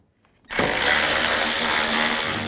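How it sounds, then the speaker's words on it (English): A power tool or impact driver with a T30 socket spins up abruptly after a brief quiet moment and runs at a loud steady whine, removing cover screws on a BMW X3. "I wanna take these four screws out. I'm gonna use a T30 socket."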